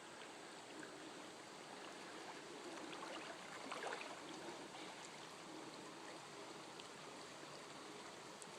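MacKirk Creek in Pennsylvania flows past a gold-prospecting sluice, giving a steady, faint, even rush of running water with a slight swell midway and no voices.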